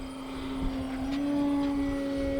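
An E-Flite Extra 330 RC airplane with bright orange wingtips flies overhead, its electric motor giving a steady, fairly loud whine that slowly rises in pitch, with no talking.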